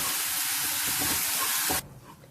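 Ingredients for honey garlic chicken fry in hot oil with a loud, dense sizzling hiss up close that suddenly drops to a faint simmer near the end.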